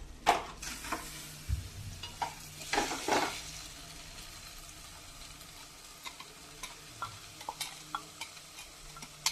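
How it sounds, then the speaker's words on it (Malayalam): Crushed carrot being stirred into sautéed onions in a hot pan, sizzling and frying with scattered spoon clicks and scrapes against the pan, loud bursts early then lighter ticks. "അത് നമുക്ക് ഈ വഴറ്റി വെച്ചിരിക്കുന്ന സവോള ഉള്ളിയിലേക്ക് ഇട്ട് കൊടുക്കാം"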